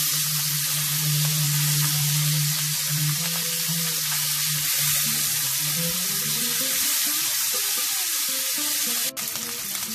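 Salmon fillet sizzles steadily as it pan-fries in a hot pan, a continuous close crackle and hiss with a low hum beneath, running alone throughout.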